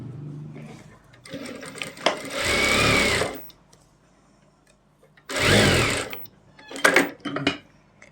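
An electric sewing machine stitching pocket cloth into an Afghani salwar, two long loud runs of rapid whirring and several short bursts of stitching, with quiet pauses between.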